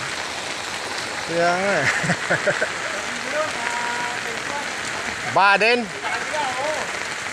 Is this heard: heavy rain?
yes